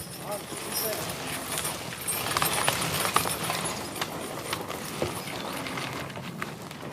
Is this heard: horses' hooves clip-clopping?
yes